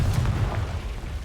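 A Confringo blasting spell explodes in the Hogwarts Legacy video game, producing a brief, deep boom with a rumbling low tail that fades away within about a second.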